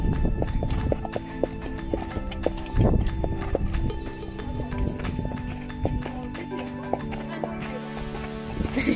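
Irregular clopping of horse hooves on hard ground, with tonal background hum and occasional faint voices.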